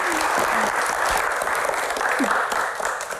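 A studio audience at a music Q&A applauds a guest, a thick, continuous wash of clapping that holds steady and loud before tapering slightly at the end.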